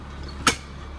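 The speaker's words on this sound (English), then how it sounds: "As we close up this door here, locking it in." A single sharp clunk of an International Thomas school bus door shutting, heard once over a low DT466 diesel engine idle.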